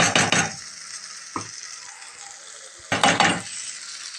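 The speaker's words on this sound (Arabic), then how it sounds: "هنفضل نشوح فيها شويه" Liver with black pepper sautéing in a pan: bursts of scraping and stirring with a utensil against the pan open and close the stretch, and a quieter sizzle carries on between them. No one speaks.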